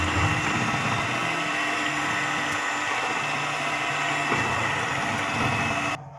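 An electric blender runs continuously, blending beetroot sponge cake batter with a loud, even motor whir for about six seconds before cutting off abruptly at the end.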